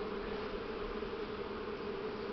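Buckfast honeybees hum steadily at the hive in spring, a continuous close drone with no talk over it.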